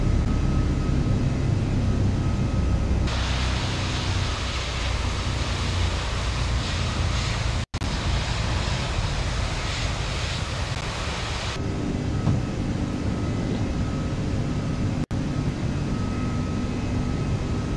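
An Aerosoft Airbus A330 of Discover Airlines climbs after a long takeoff run from Frankfurt in the Prepar3D v5.4 flight simulator, producing a loud, steady roar of jet engines and rushing air that shifts in tone partway through, with brief dropouts.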